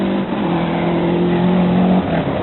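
Rally car at the 1992 WRC Rally Australia, a Frenchman's car engine revving hard with a sustained, loud, close buzzing drone that holds a steady pitch, briefly dips, then climbs again.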